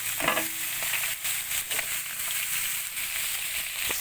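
Vegetables frying in a pan for pancit bihon, a steady loud sizzle with crackling and occasional stirring clatter throughout, no talk over it.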